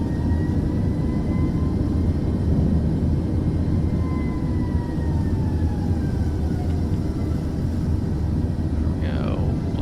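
Airplane engine throttling in Microsoft Flight Simulator 2024 during a gear-down descent, a steady loud droning roar with faint tonal whines drifting in pitch, continuous for about ten seconds.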